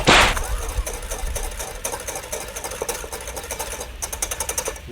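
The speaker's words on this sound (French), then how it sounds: "C'est important de bien fouetter." Panna cotta cream with dissolving gelatine being whisked briskly in a bowl, producing rapid rhythmic clicking and scraping strokes close up after a brief louder knock at the start, with no talk.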